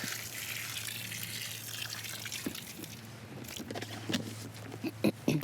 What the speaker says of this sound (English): add a little more water just for good measure